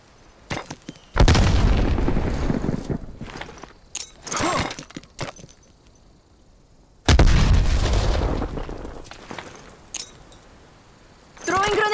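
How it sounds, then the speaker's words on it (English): A frag grenade is thrown and explodes in the Black Ops video game, with heavy booming blasts, one early and one later, trailing off into rumble amid scattered gunfire and footsteps. "Sending frag grenade."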